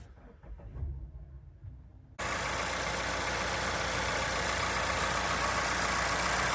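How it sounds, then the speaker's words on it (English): A Mazda 2.5L Skyactiv-G four-cylinder engine cranks and catches abruptly after a quiet stretch, then settles into a steady, loud, close idle that holds evenly to the end. "Now let's start the car."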